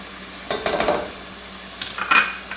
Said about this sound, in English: we're going to go ahead and add our garlic in now